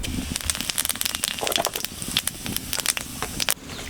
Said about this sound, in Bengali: এখন আমি এই যে মাছ ভাজার তেলেই গোটা জিরে ফোড়ন দিয়ে দেবো।